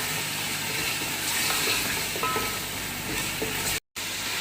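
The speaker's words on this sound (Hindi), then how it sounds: "ये देखिए, हमारा लहसुन भी भून गया, अदरक भी भून गया।" Garlic and ginger fry in a pan with a constant dense sizzle and hiss, close and steady, cut by a brief dropout near the end.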